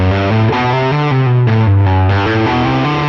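A distorted electric guitar plays a quick run of single notes climbing and falling in a steady pattern, loud and alone.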